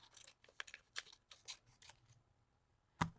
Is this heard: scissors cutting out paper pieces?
yes